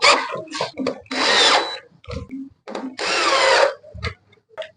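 A power drill drives 1.5-inch black gypsum screws into wood while fitting a wardrobe sliding channel, with two sustained loud whirring bursts and several shorter stop-start spins, close up.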